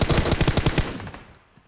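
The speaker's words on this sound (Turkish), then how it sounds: "O nereden sıkıyor lan?" Rapid automatic gunfire in PUBG Mobile on the Erangel map, a loud burst of about ten evenly spaced shots followed by a fading echo, with no talking.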